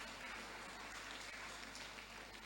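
Steady applause from an audience at a youth summit, a dense, even wash of clapping held at a constant level throughout while someone walks up to the stage.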